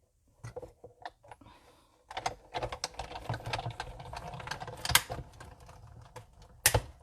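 Paper being cut with scissors or a trimmer for a small stamped gift pouch, a run of close, crisp snipping and rustling sounds in irregular bursts, loudest in the second half.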